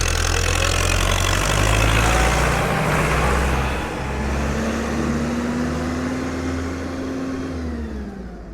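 An old Ford 6640 tractor engine drives at close range with a loud, steady rumble and a whining tone that rises and then eases off as the machine moves.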